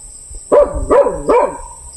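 A dog barks three times in steady succession near a hut in the Philippine countryside at night, each bark loud and sharp with a short tail, alone without any voices.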